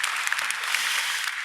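A church congregation at a Korean Sunday service claps steadily in thanks, dense and even applause filling the room from start to end.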